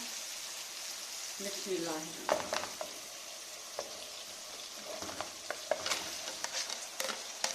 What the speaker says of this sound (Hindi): अभी हम इसमें साग डालने लगे हैं।